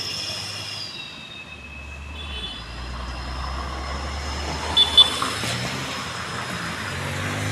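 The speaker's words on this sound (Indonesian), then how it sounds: "Satu unit mobil tangki melintasi tanjakan Bukit Kodok." A tanker truck grinds up the steep Bukit Kodok hill road with a steady, loud engine and road roar. A brief metallic squeal or clank rises near the middle.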